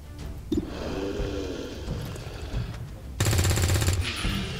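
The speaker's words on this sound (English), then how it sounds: "SMG doing damage." Submachine gun fire in Long War 2, a brief loud burst of rapid shots erupting after quieter game ambience and a short early bang.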